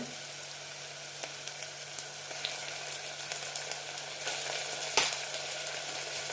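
Ginger garlic paste sizzling with onions in hot oil for Ambur kuska biryani, a steady close frying hiss throughout with a few small pops and a stirring clatter near the end, no voices.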